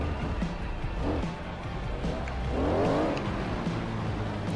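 A car engine in the racing game Forza Horizon revs steadily, rising in pitch through a strong sweep near the end, with a dense continuous drone and some tyre noise underneath.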